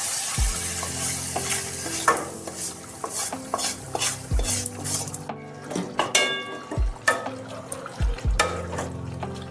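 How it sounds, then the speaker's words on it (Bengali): Capsicum and tomato, already fried, are stirred into chicken in a pan: repeated spoon scrapes and clacks against the pan over a steady sizzle, some sharp metallic knocks, with no talking. "ভালোভাবে একটু মাংসের সাথে ক্যাপসিকাম টমেটো সব কিছু মিশিয়ে দিতে হবে।"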